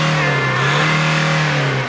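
A car engine is held at about 5,000 RPM, a loud, close, sustained mid-pitched drone that stays fairly even for two seconds and eases off slightly at the end.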